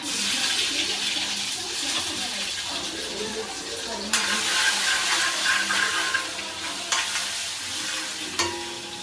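Masala paste sizzles and fries steadily in hot oil with curry leaves in a home kitchen pan, a loud continuous hiss with bursts of spattering and occasional stirring clatter.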